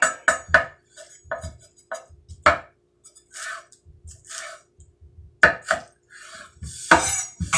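A knife slices beef for a beef and broccoli stir fry on a cutting board, giving a run of irregular close thuds and chops with short gaps between the strokes.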